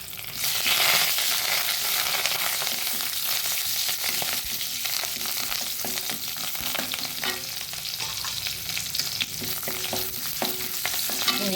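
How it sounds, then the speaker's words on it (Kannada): Torn leaf frying in a pan for a traditional ganji, a steady crackling sizzle with occasional stirring scrapes, close and continuous with no talk. "ಈಗ ಒಂದು ಎಲೆಯನ್ನು ಈ ರೀತಿ ಚೂರು ಮಾಡಿಕೊಂಡು ಸ್ವಲ್ಪ ಇದರಲ್ಲಿ ಅದು ಸ್ವಲ್ಪ ಫ್ರೈ ಆಗಬೇಕು"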